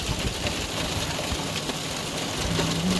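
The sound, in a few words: hail and rain falling on an RV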